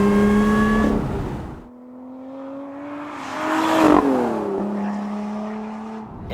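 A supercharged Lotus Emira sports car drives along, its engine note rising and falling through revs with tonal whine, dipping between gear changes and swelling again, loud and close.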